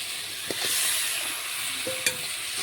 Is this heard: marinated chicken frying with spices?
yes